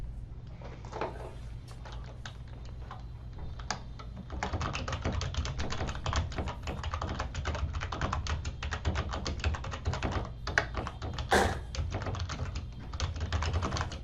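Keys clatter on a computer keyboard in quick, irregular bursts, quiet at first and then busier and denser, close by with no talking.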